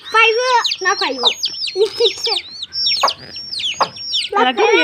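A small chick cheeping repeatedly in shrill, rapid bursts close by, mixed with clucking from a hen and overlapping human voices talking.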